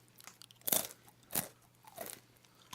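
A person mimics wet chewing with their mouth, giving three or four close, smacking crunchy bursts spaced about half a second apart, with no talking over them.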